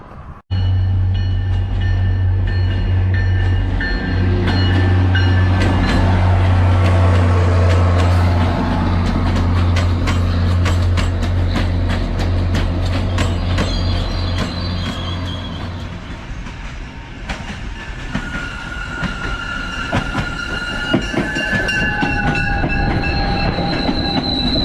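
A commuter train pulls into a station on the Haverhill line, loud and close, with a low engine drone, rhythmic clickety-clack of wheels over rail joints and high squealing brakes and wheels as it slows to a stop.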